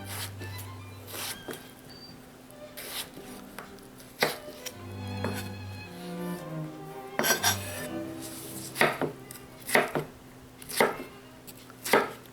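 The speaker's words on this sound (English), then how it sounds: "And then chop them into small bite-sized pieces" Potatoes chopped into small bite-sized pieces with a knife on a cutting board, producing a run of sharp, evenly spaced thuds that quicken and grow louder toward the end, close up with no speech.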